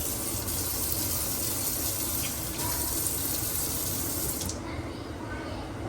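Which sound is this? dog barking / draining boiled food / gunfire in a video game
draining boiled food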